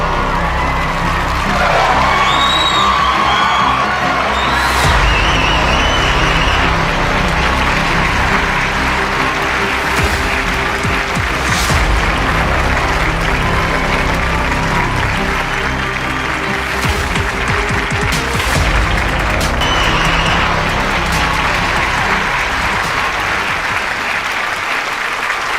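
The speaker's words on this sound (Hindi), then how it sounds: "जोरदार तालियां मिस्टर मोतीलाल जी के लिए।" Sustained loud applause from an audience at a Modicare event, with scattered cheers and whoops rising above the clapping for about twenty-five seconds.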